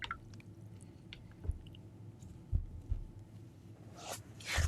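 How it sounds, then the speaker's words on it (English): A paint brush used for acrylics is rinsed in a water container, giving faint soft swishes, a few light taps against the container and a brief wetter sloshing flurry near the end. "Alrighty, rinsing that brush."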